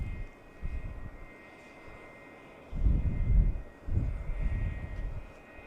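Airplane at Dallas Love Field, a fixed-wing aircraft heard as a distant low engine rumble that swells loudly twice over a steady background hum, with no voices.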